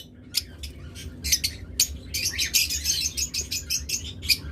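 Birds kept for sale chirp and squawk in quick, sharp bursts, with calls overlapping and growing busier toward the end. They sound close, with no talking.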